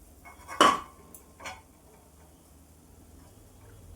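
A metal lid is set onto a cooking pan on low heat, giving one sharp clink followed by a softer second tap, close and clear in an otherwise quiet kitchen.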